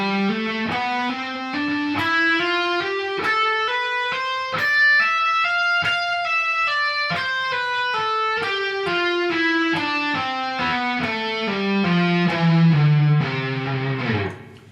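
A distorted electric guitar plays a smooth three-note-per-string legato exercise, with clear, sustained notes running up and then back down in a continuous, even flow.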